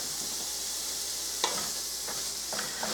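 Onions fry with cabbage and bacon in a pan, a steady even sizzle with a few brief stirring scrapes at intervals, moderately quiet and with no voices.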